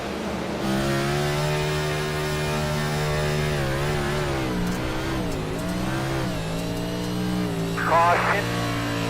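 An onboard race car engine on the Bristol dirt track drones loud and close at high RPM, pitch rising and falling through the corners, with a commentator talking over it.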